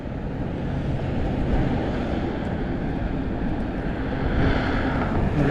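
Strong wind buffets the microphone while riding a custom Aostirmotor S17 e-bike with a Bafang Ultra M620 mid-drive on a commute near an expressway, a loud continuous low roar that swells slightly near the end, with no speech.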